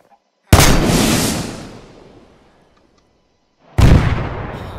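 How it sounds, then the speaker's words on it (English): A grenade launcher in the Minecraft BlockFront WW2 mod fires twice: each time a sudden loud boom that rolls off into a long fading rumble, with the second blast arriving after about three seconds of near silence. "it doesn't shoot, it just fires a grenade"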